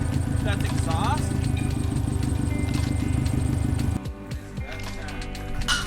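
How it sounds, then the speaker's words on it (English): A Subaru Legacy show car engine runs loud and steady with a rough, rhythmic exhaust burble, then the note drops and turns choppier with scattered pops and crackles near the end. "the Legacy runs. It's friggin' very loud inside."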